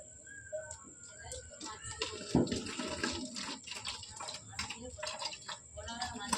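Water filling a bottle, a gurgling, splashing stream with a rising tone, heard close alongside people talking and household noise.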